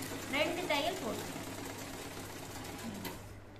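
A sewing machine stitches a garment neck seam, whirring with a steady mechanical hum, while someone talks over it close by.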